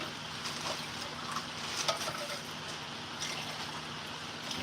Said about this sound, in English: Rinse the can.